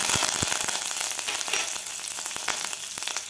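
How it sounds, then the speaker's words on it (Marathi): Garlic and curry leaves fry in a pan with a bright, continuous sizzle broken by frequent sharp crackles and pops, close and unaccompanied by speech. "लसूण आपल्याला थोडासा परतून घ्यायचा जास्त लाल नाही करायचा यामध्ये घालायचं आपल्याला कढीपत्ता"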